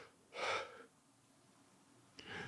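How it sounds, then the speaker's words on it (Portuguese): A person gives a single breathy yawn, a drawn-out inhale followed by quiet, with a shorter breath at the end, close and soft. "o meu corpo, ele me faz um bocejo quando está na hora"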